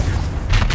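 A Confringo fire spell blast in the Hogwarts Legacy video game, heard as a loud, close boom with a crackling burst that swells halfway through the short moment, alone without talk.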